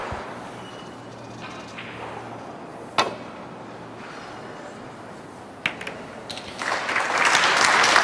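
Snooker match crowd at the 2016 Northern Ireland Open. After a quiet arena with a couple of sharp ball clicks, applause swells up near the end and rises to a full, dense round.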